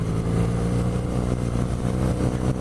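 A 2017 BMW R nineT Pure's boxer twin engine runs loud and close, a throbbing, harmonic-rich drone rising and falling slightly as it revs.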